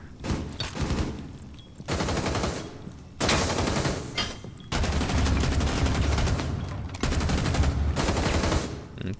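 Sustained automatic hip-fire gunfire in a video game shooter, long loud bursts of rapid shots separated by brief gaps, close and with no talk over it.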